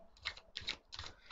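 Three quick riffling bursts of matte tarot cards being shuffled, crisp papery flutters close by with brief pauses between them.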